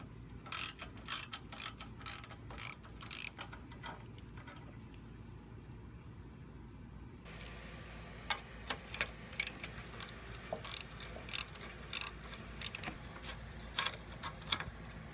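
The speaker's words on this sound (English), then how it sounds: "Remove both 10mm bolts on the sides of the power steering cooler." Hand ratchet clicking in repeated quick bursts as it backs out 10mm bolts on the side of a power steering cooler on a Trailblazer/Envoy, moderately close with low shop hum underneath and no talk.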